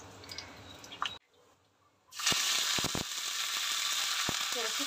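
Mustard seeds sizzle in hot coconut oil, cooking for a chicken roast. A quieter stretch gives way to a loud, steady crackling hiss that is broken by a few sharp pops.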